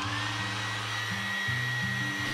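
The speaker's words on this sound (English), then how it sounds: "Using a hairdryer, heat the display surface for 1 or 2 minutes." A hair dryer blows with a steady, loud whooshing hum and a shifting low drone, running continuously with no voices, heating an iPhone XR display to loosen its glue.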